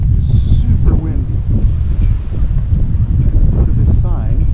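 Gusty wind buffets and roars steadily by the water at Coco Cay, a loud rumbling rush close by, with faint voices now and then.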